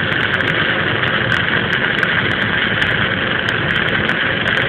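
A stick welder runs a root pass with a 7018 rod in a crack, giving a loud, steady crackling hiss that carries on without a break and with no talk.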